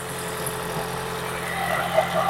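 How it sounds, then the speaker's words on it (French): A Toyota hybrid car engine with a failed head gasket idling unevenly with a low, rough judder, steady and close, and a slight rise in revs near the end. "Le moteur, il broute"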